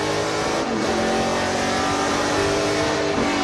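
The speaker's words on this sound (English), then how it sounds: "We ride on board with Cornemanche up at the front." Onboard engine roar from a NASCAR Pinty's Series stock car racing at ICAR, a loud, steady high-revving drone with no talk over it.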